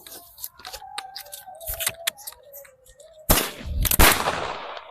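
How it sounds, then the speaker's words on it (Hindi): A Diwali sky shot firework fizzes and crackles on its fuse, then launches with a sharp bang and bursts loudly overhead into a crackling, hissing shower. "देखा भाई तुरंत में जाके भाई ऊपर फूट चुका था।"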